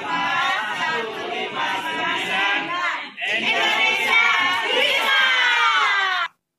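A large crowd at a street demonstration cheers and shouts continuously, loud and dense, with a brief dip halfway before the roar resumes and then cuts off abruptly.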